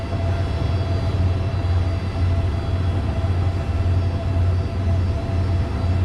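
Trains stand and arrive at the platforms of Hua Lamphong railway station in Bangkok, a steady loud low idling drone with a faint high whine, with no voices.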